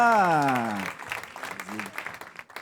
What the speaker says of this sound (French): Est-ce qu'on peut accueillir Adrien avec des applaudissements